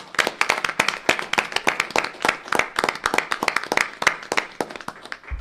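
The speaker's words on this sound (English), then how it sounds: "So let's give them another big round of applause." An audience at a school district meeting honoring school nurses gives a sustained round of applause, dense overlapping hand claps steady and close for several seconds with no speech.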